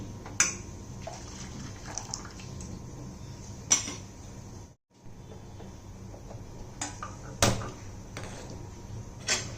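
A cooking pot is washed with water: water splashes and sloshes while metal clinks and knocks sharply at intervals, close by. A short pause breaks the sound midway, and no one speaks.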